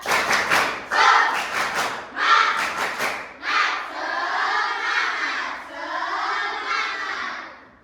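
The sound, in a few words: class doing a rhythmic spirit clap chant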